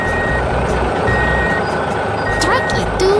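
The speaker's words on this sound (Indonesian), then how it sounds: "Setelah tugas selesai, truk hijau itu melaju pergi dengan teratur." An animated green dump truck pulls away with steady repeating reversing beeps over a loud, continuous engine rumble, ending in a rising whine.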